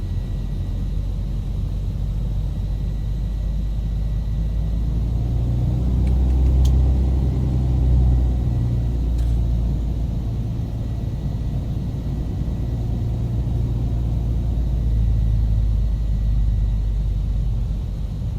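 A low, steady piston-twin engine drone from a Beechcraft Duke in a flight simulator rumbles on without a break, its pitch shifting slightly as it taxis, with a couple of faint clicks.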